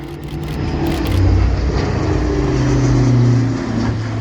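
An Airbus A400M military transport aircraft goes around at full engine power during an airshow, landing gear retracting. A loud, sustained droning roar with a steady tonal hum swells slightly and holds throughout, with no talk.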